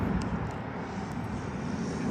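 Hangar 9 J-3 Cub 10cc RC airplane making a full speed pass, its engine a steady buzzing drone that holds level throughout, heard from a short distance outdoors.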